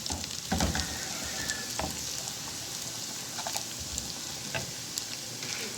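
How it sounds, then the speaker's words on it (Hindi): Chopped garlic and cumin seeds tempering in hot ghee in a pan: steady, fairly faint crackling sizzle with scattered pops and a few stirring clicks, alone without talk. "अब हम तड़का लगाने वाले हैं।"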